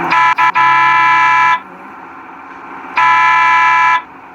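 A loud, steady bus horn in the video game Euro Bus Simulator blares twice: a long honk of about a second and a half, a pause, then a second long honk.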